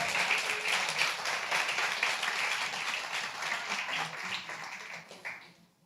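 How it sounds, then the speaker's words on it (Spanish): Congregation applauding in a church service, a full burst of clapping that stays strong for several seconds and then tapers off at the end. "Den un aplauso a Jesús,"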